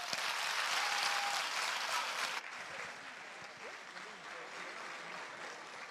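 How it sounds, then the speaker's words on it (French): An audience at an international science-communication contest final applauds a contestant after her talk, dense crowd clapping that is loud at first, then drops abruptly to a softer, sustained level. "Applaudissements pour Yara, mesdames et messieurs."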